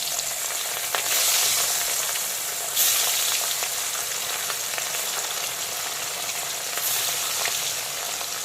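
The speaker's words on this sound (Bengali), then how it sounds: "এখন বাকি মাছগুলোকেও আমি তেলের মধ্যে দিয়ে দিচ্ছি।" Rohu fish pieces frying in hot oil in a kadai, a steady loud sizzle and crackle throughout with brief surges of hiss as more pieces go in.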